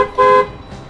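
A school bus horn gives one short, loud honk lasting about a quarter second, a steady flat tone that cuts off cleanly, followed by a faint rumble.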